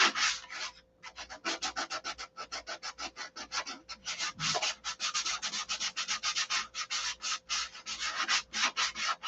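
A SIG Magnum is sanded by hand in quick back-and-forth strokes, a close, raspy scrubbing with a short pause early on, continuing in a steady rhythm.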